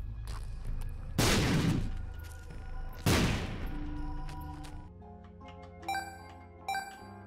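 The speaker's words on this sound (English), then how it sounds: "It was worth just tossing down a bomb there." Two bombs explode in The Binding of Isaac, each a sharp, loud burst about two seconds apart over a steady game backdrop, followed by bright chiming tones.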